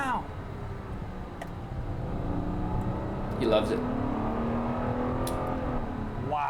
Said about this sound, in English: That is an amazing, amazing engine note.